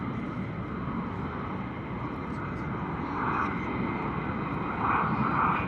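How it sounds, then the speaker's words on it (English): A US Air Force F-35 fighter jet on approach, coming in low and fast, gives a broad distant engine roar that swells slightly, with people talking faintly beneath it. "On the approach, F-35 coming in hot."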